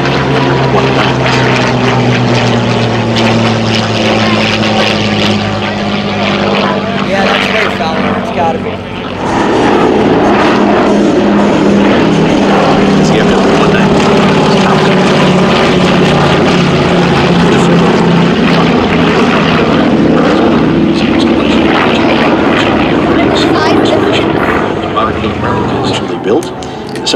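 A restored Messerschmitt Bf 109 and Focke-Wulf Fw 190 with composite propellers fly at an air show, producing a loud, continuous piston-engine propeller drone that shifts in pitch partway through as a plane passes close, with a narrator speaking over it.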